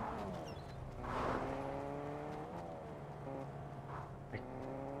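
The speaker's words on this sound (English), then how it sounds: "I hear a car." A synthetic car engine in Fortnite hums steadily at moderate distance, its pitch rising and falling as it revs, with a brief sharper accent near the end.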